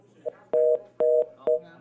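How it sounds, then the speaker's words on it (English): Telephone line tone after a radio show caller hangs up: a steady electronic tone cut into short, evenly spaced pulses, three or four beeps in under two seconds, clear and moderately loud over a faint hum. "Oh, okay, that was the dial tone"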